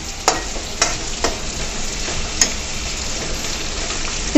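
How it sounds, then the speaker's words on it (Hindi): Food frying in a pan while being stirred, a steady loud sizzle with a few sharp scrapes of the spoon against the pan at irregular moments. "इसको अच्छे से मिक्स कर रहे हैं अभी ताकि ये अच्छे जल्द से जल्द ये फ्राई हो जाए।"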